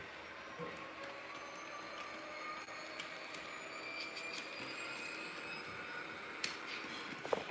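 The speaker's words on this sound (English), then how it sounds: "And now what I can do is unhook the locomotive, back it up." An HO scale model train locomotive backing up along its track, heard as a faint whirring hum with thin wheel squeals and a few small clicks near the end, with no voices.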